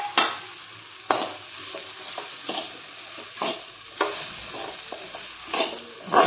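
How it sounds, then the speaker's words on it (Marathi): Grated coconut is stirred into frying onions in a pan, with about a dozen distinct spatula scrapes at an uneven rhythm over a soft background sizzle. "आता त्याच्यात खोबरं मिक्स करून घ्यायचं."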